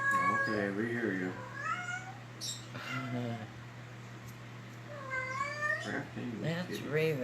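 A female cat in heat yowls and meows loudly in long, wavering cries, several calls in succession, over a steady low hum, with a person talking between the calls.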